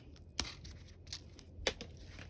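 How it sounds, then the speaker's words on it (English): Thermostat wire rope and insulation being snipped with a cutter, two sharp quiet clicks of the blades closing over a faint background hiss. "We will cut the rope and the insulation"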